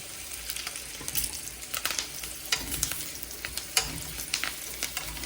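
Red potatoes, microwaved beforehand, fry in butter in a pan, giving a quiet, steady sizzle broken by scattered crackles and scraping stirring clicks, with no talking.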